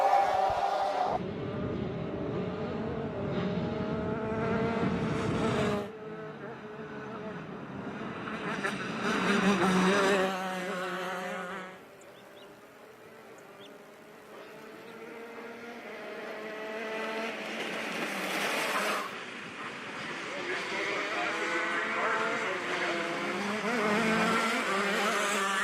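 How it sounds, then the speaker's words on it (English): Shifter racing karts run on the circuit at Adams Motorsports Park, several high-revving two-stroke engines buzzing and droning continuously, swelling and fading as they pass at moderate distance. "Final group of shifters making their way up to the grid."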